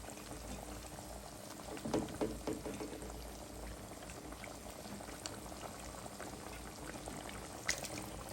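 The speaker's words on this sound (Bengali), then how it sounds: "আর একটু পানি দিয়ে দিলাম" Water goes into a pan of cooking bele fish with onion and tomato, giving a soft bubbling simmer, a brief burst of pouring near the start and a low rumble underneath.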